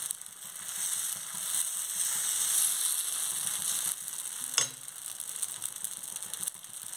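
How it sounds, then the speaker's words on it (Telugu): Vermicelli dosa batter sizzling on a hot pan, a steady faint crackle that runs for several seconds with one brief clink of a utensil partway through and no voices. "ఇప్పుడు దోశలు ఏ విధంగా పోద్దాం చూడండి"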